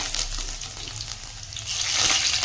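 Cumin seeds and curry leaves crackle in hot oil with a close, loud, hissing spatter that swells slightly toward the end of the short burst.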